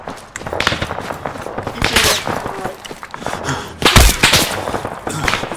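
Rapid bursts of rifle and machine-gun fire in the military shooter game Arma 3, loud and continuous with overlapping shots near and far, while voices call out under the gunfire.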